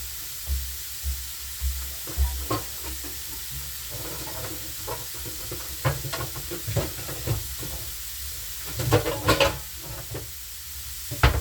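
Carrots sizzle in a hot pan, with irregular scraping and clattering from stirring over a steady frying hiss.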